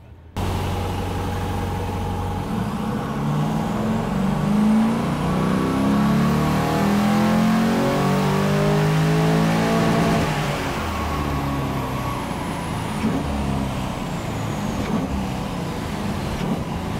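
A BMW E30 with a cam upgrade roars through a dyno power run, the engine climbing steadily in pitch to a high rev peak around the middle, then easing back down, loud and close throughout with no talking.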